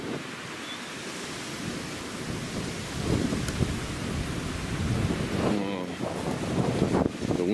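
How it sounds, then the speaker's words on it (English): Strong wind buffets the microphone outdoors at a home running solar and wind power, a continuous rushing roar with gusty surges that grow louder midway. "Wind is just crazy."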